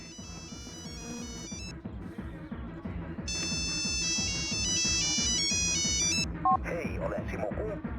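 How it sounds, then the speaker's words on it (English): A mobile phone ringtone plays a bright, repeating melody in two loud bursts over a busy background with voices, then cuts off abruptly. "Yep, I can hear my phone."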